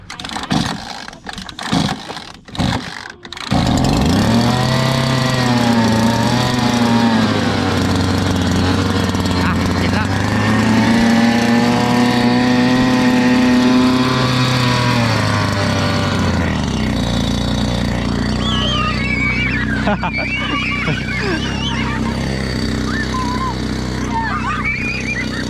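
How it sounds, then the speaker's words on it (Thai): A boat engine sputters through a few cranks, then catches and runs loudly with a steady drone, rising and falling in pitch before settling into a lower idle. "สตาร์ทเรือก่อน"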